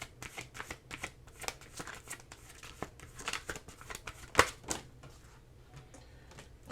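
Oracle cards being shuffled by hand, a soft run of riffling and flicking bursts with papery snaps, close and fairly quiet, with no talk.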